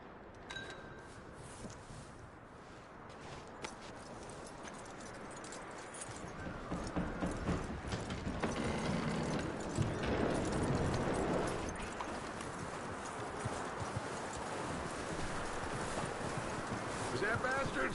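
Horse hooves clip-clop in Red Dead Redemption 2, a steady run of soft, close hoofbeats under a continuous wash of ambient game noise that swells slightly toward the middle.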